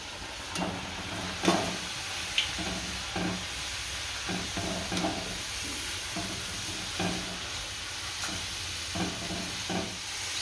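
Potato french fries deep-fry in hot oil with a soft, steady sizzle, broken by occasional scrapes and clinks of a utensil stirring them in the pan.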